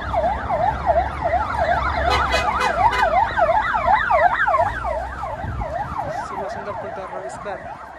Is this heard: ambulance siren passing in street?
yes